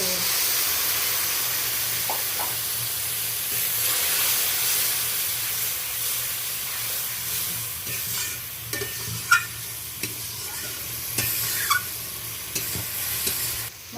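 Spice paste sizzles and hisses steadily in hot oil in a pan, with intermittent scraping clicks of stirring growing more frequent toward the end.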